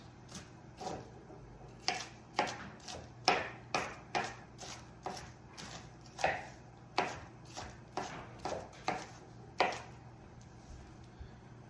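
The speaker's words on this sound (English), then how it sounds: "I do want to chop it up additionally so that it gets into these small little pieces" A knife chops food finely on a cutting board for a steak meal, with a steady run of crisp, evenly spaced taps, close by and quiet with no talking.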